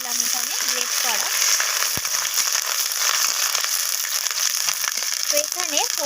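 Black cumin seeds and grated ginger fry in hot oil as a tempering, giving a steady close sizzle with scattered crackles and small pops throughout.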